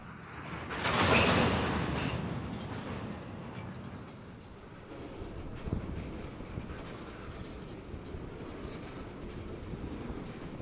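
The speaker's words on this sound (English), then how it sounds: "The engineer reverses slightly to put some slack in the couplers, then pulls forward to make the cut." Union Pacific Heritage Unit 1988 locomotive reverses to slacken the couplers and then pulls forward to uncouple cars. A clanking surge of rail cars rises early, eases into a lower rumble, and a second knock follows midway.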